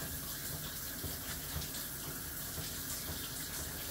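Steady shower water running for a pet cockatoo, a constant close hiss of spray and splashing that fills the whole stretch without pause, with no talking.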